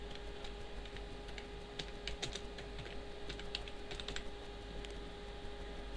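Rapid clicking of keys on a computer keyboard as text is typed, a close run of light irregular taps over a quiet steady background hum, with no talking.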